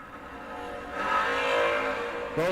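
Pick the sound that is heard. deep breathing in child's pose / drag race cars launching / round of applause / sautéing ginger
drag race cars launching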